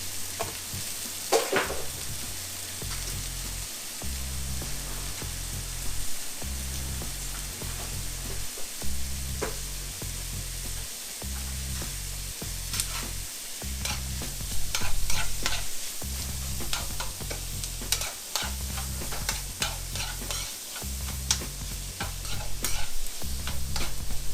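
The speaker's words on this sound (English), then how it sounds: "Then we're gonna throw them onions in there." Onions stirred and sizzling in a frying pan for a vegetarian pot pie, with a steady frying hiss under repeated rhythmic scraping and stirring strokes, close and continuous.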